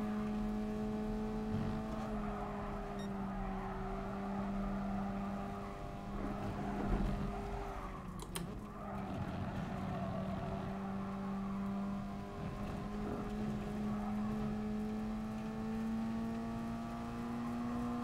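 A race car in Gran Turismo Sport holds a steady engine drone through a practice lap, the pitch climbing and dipping slightly as the car brakes and accelerates again. The sound is moderately loud and continuous, with no talking over it.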